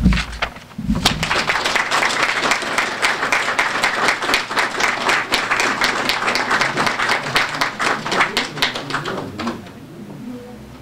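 An audience applauds high school poets at a library poetry awards event, with steady, dense clapping that builds quickly and fades near the end.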